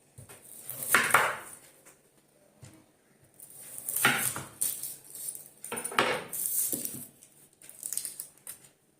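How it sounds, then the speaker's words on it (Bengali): A knife chops capsicum and onion on a board in a home kitchen, sparse clusters of quiet tapping cuts coming in uneven bursts with pauses between, close and faint, no talk. "এখানে এই যে ক্যাপসিকাম ক্যাপসিকাম পেঁয়াজ এগুলোকে সব কেটে নেবো"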